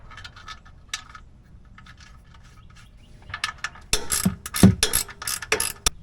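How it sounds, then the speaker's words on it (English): On a 2019 Nissan Titan, a ratchet loosens the oil filter with soft, sparse clicks at first and then a close, louder run of rapid pawl clicks and metallic knocks. "first thing we're going to do is loosen this filter"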